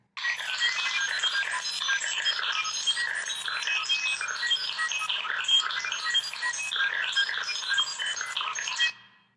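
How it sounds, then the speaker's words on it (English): Three electronic stove beeps layered and played at once, a dense, continuous jumble of bright overlapping tones at different speeds, loud and steady for about nine seconds before stopping abruptly, with no talking. "Now here's all the three stove beeps together."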